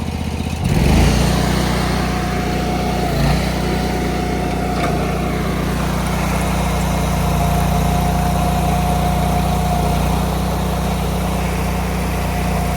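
The fuel-injected Honda engine of a Ditch Witch 36-inch walk-behind trencher starts up and throttles up into a steady, loud running drone with a faint whine on top, continuing without talk.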